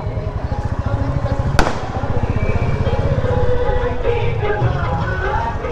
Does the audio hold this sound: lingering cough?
no